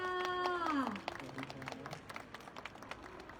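Applause at a Scomadi scooter launch event in Thailand, with scattered claps from the crowd following a voice at the start, fading to lighter, sparser clapping.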